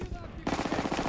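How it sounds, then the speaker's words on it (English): Gunfire from the World War II shooter Call of Duty: WWII: a quieter opening, then dense, continuous rapid machine-gun bursts at close range. A voice is faintly present under the shooting. "Gunfire! We must be near our guys."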